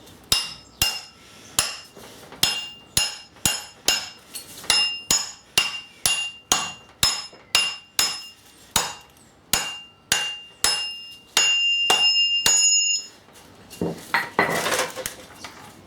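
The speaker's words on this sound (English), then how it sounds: "now is the time for the lump hammer rather than the plastic hammer" Repeated sharp metallic lump hammer strikes on a drive shaft flange of a Passat gearbox, steady rhythm, loud and ringing, about twenty blows, ending in a brief grinding rattle.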